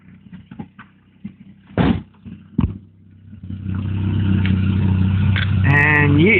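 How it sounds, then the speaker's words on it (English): A 1994 Ford Probe engine idles, then the throttle is tapped so the revs rise and swell into a loud, sustained roar, with a couple of sharp knocks and clatters before it builds. "just tap the throttle"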